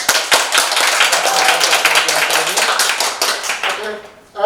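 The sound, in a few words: audience applause for a speaker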